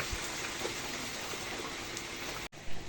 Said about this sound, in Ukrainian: Ось так іде дощик.